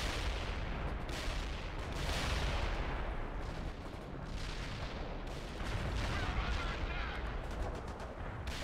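Artillery fire in the video game World in Conflict sounds as a dense, continuous roar of booms and blasts, with repeated heavy impacts swelling and fading throughout.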